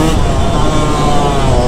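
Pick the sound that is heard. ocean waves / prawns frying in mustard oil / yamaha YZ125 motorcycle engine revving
yamaha YZ125 motorcycle engine revving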